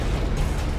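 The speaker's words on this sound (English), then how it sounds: "Explosion." A video game explosion from Salvador's arsenal in Borderlands 2, a short dense booming burst with heavy low rumble filling the moment, loud and without talk.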